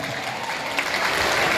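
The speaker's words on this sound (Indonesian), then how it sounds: "Tepuk tangan dulu banyak." Students and teachers applaud in a school classroom: a dense, even burst of many hands clapping at moderate distance that swells slightly toward the end.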